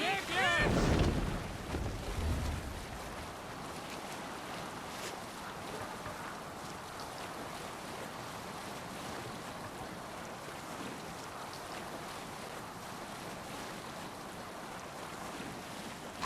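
A Viking longship under sail at sea in Assassin's Creed Valhalla, with a steady wash of waves and wind. A brief louder gust or splash comes near the start, then a constant surging roar continues alone.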